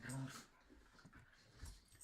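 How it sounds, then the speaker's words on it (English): Dogs whimper and pant in the background during Rogue Squadron gameplay, with a brief higher yelp at the start and scattered soft noises after, fairly quiet behind the room. "And I apologize for the background noise. My dogs are being noisy."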